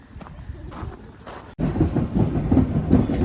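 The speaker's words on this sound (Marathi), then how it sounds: "तर ही जी ट्रेन आहे हा पूर्ण लाकडी बोगी आहे" Old steam train with wooden carriages on the Isle of Wight heritage railway, heard as a steady loud rumble and rattle from about halfway through, preceded by quieter clatter and brief bursts.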